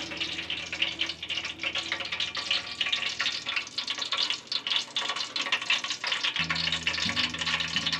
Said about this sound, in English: we spill a little sulfuric acid, sprinkle some baking soda on it over here